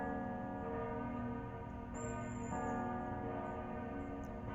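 Bells ringing with sustained, overlapping tones in a continuous metallic drone, steady and moderately distant, with no talk.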